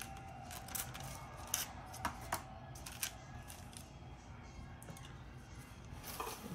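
Scissors snip a piece of gilding material in half at close range during icon water gilding, making several small crisp cuts over a steady background hiss.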